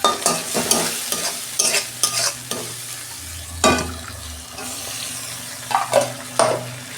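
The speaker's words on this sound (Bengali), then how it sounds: "এটা আমি ভালো করে কষাবো, আদা রসুনের গন্ধটা চলে যাবে" Ginger-garlic masala is stir-fried in a pan for a home-style eggplant dish. Loud, close sizzling runs throughout, and a spatula scrapes and knocks against the pan in irregular strokes.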